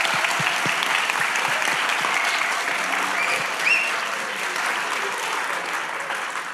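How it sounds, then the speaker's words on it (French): An audience applauds French TV weather presenter Evelyne Dheliat at a meet-and-greet, with steady, sustained clapping that fills the room and eases off slightly toward the end. "Je pense qu'on peut vous l'applaudir."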